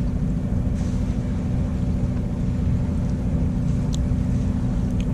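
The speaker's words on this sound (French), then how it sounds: "on fait du moteur" A sailboat motors under engine on the Mediterranean near the Strait of Gibraltar, its engine producing a steady, low, close drone with a faint wash of wind and water and no voices.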